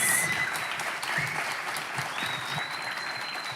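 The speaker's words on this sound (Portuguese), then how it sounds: "Uma salva de palmas para a Laís, do Ovo Social" A church audience applauds after a testimony on stage, a dense burst of clapping that starts loud and slowly eases off.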